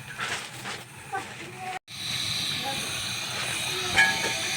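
A camping stove burning steadily under a very large cooking pot of noodles, giving a continuous loud roaring hiss that runs nearly throughout, briefly cut off once, with faint voices in the background.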